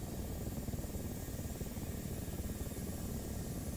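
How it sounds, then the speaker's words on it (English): Apache attack helicopters fly nearby in the DCS World flight simulator, giving a steady, even rotor and engine drone with broadband whine throughout, moderately quiet and continuous with no talk. "Here's some helicopters."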